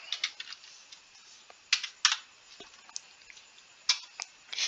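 Someone types on a computer keyboard close by in a quiet room, a soft, irregular patter of key clicks with small bursts and brief pauses, and no talk.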